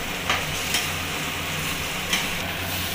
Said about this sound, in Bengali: গোবিন্দভোগ চালটাকে একদম লাল করে ভালো করে ভাজবো